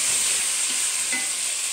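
Onions frying in a pan, being browned for a liver curry: a brief, loud, steady hiss of sizzling oil at close range, with no talking.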